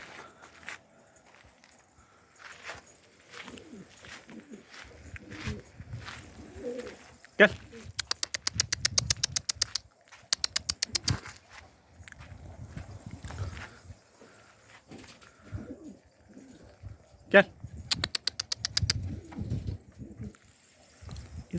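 Sarı Macar and Sarı Güllü pigeons coo in low throaty bursts, with sharp wing-clapping flurries and scuffling nearby; someone talks intermittently over the birds.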